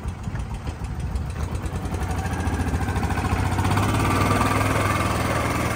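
A 2007 Kawasaki Mule utility vehicle that smokes idles steadily up close, a loud, even engine rumble with a rapid pulsing beat throughout and no talk.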